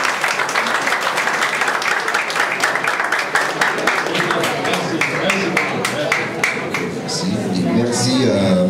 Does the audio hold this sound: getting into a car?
no